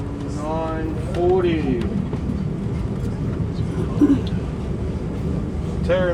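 XPT passenger train running on rails toward Dubbo, a steady low rumble of wheels and carriage noise throughout, with voices talking over it and a few brief tonal squeals or chimes.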